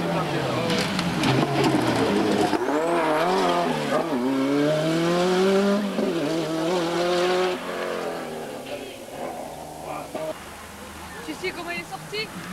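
Renault 5 Turbo 2 rally car on a stage of the 1993 Rallye de Madiran, its engine revving hard through gear changes with rising and falling pitch, then fading as it moves off, while a commentator talks over it.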